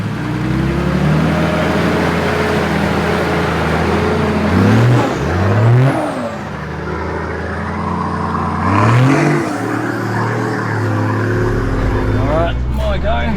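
A 4WD vehicle climbs a wet, muddy track in Toolangi State Forest near Melbourne, its engine droning steadily with a couple of rising revs as it pushes on, while people talk over it throughout.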